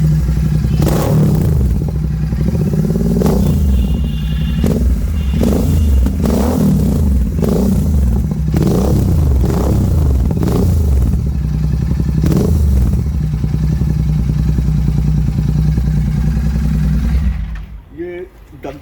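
A Royal Enfield Super Meteor 650 motorcycle fitted with an aftermarket performance silencer idles with a loud, deep exhaust rumble, blipped repeatedly into sharp revs, running steadily close by before cutting off near the end.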